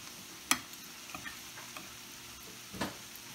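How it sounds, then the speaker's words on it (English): Seasoned frozen cauliflower is stirred in a pan over a soft sizzle, with a few sharp scraping clicks, one strong knock early and another near the end, all without talk. "you want to stir enough to get those seasonings all throughout"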